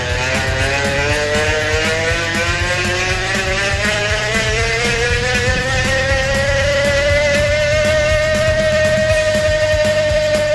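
A loud, continuous buzzing whir with a rising pitch, like a noisy freewheeling bicycle hub spinning fast, steady and close throughout.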